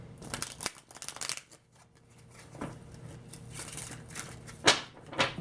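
Playing cards being shuffled in several quick riffling bursts, with brief pauses between, close and moderately loud with no talking.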